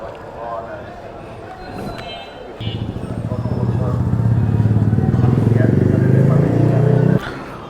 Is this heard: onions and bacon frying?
no